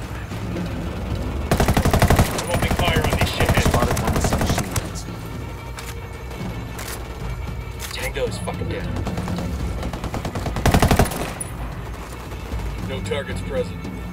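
Ghost Recon Wildlands gunfire erupts in dense automatic bursts during a story mission, two long volleys with scattered single shots between, while voices speak over the action.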